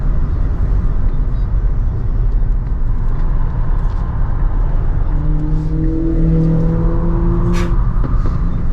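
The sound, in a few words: Tesla Model Y accelerating hard on the Nurburgring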